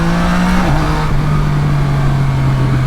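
Yamaha Niken GT three-wheeled motorcycle pulling away under throttle, a steady close engine drone holding a fairly even pitch over a few seconds, with no talking.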